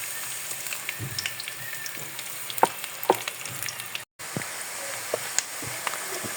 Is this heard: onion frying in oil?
yes